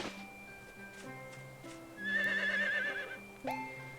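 A horse in the video game Harvest Moon: The Winds of Anthos gives one clear, wavering neigh midway, alongside soft game chimes and tones.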